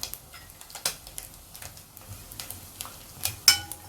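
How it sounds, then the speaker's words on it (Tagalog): Nori seaweed wrapper frying in a pan over low heat, a faint crackle and sizzle with scattered light ticks and taps, quiet and without talk. "we will now fry our nori wrapper"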